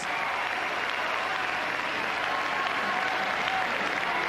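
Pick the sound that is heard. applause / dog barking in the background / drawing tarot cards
applause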